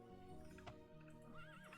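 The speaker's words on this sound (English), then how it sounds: "Get off the horse, Draven. You know how to get off a horse." Horse neighing in the video game Daggerfall Unity: a single whinny with clip-clop hoofbeats, steady and fairly faint, with no talking over it.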